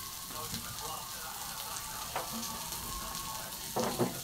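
Yardlong beans hit a hot frying pan and sizzle steadily with a dense crackle, with a few clinks and stirring scrapes near the end, heard up close.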